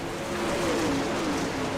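Dirt late model race cars in the iRacing simulation at Oswego Speedway roar past, a loud sustained engine drone whose pitch sweeps down as the cars go by.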